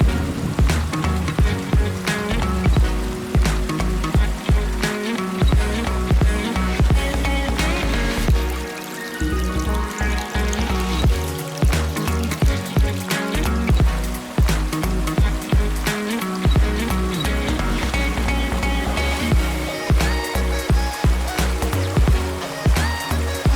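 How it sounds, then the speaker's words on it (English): A waterfall pouring into a backyard pond at a log cabin, a steady, dense rushing and splashing that stays loud and even throughout, with no talking. "Look at this waterfall. This never gets old."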